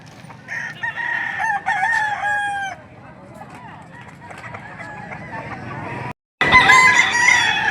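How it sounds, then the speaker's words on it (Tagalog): Roosters crow loudly and chickens cluck at the Padre Garcia poultry market in Batangas, with several long crows in the first seconds, a brief dropout, then another burst of calls close by. "napakarami pa ng mga nakalatag dito mga manok"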